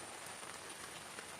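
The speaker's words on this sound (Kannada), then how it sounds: "ಈಗ ಮಳೆಗಾಲದಲ್ಲಿ ಆಗಿದ್ದರಿಂದ ಮಳೆ ಬರ್ತಾ ಉಂಟು." Monsoon rain falls steadily at a temple, a dense even hiss of drops on surfaces that holds without a break, fairly soft and with no voices.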